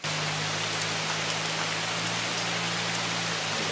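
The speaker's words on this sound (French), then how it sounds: "la pluie est déjà là pour nous accueillir" Steady rain falls hard and evenly, a dense continuous hiss of drops on surfaces with a low constant hum underneath.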